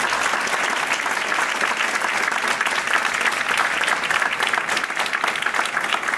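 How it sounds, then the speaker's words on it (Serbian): Loud, continuous audience applause at a Chicago screening of the documentary film about Montenegro as a divided country, dense clapping filling the room at an even level for several seconds. "Molim jedan mali aplauz za našu pozornost"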